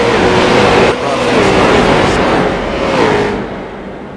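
Street stock race cars roar around the USA International Speedway oval, a loud, sustained engine drone with pitch rising and falling as cars pass, and an announcer talking over it.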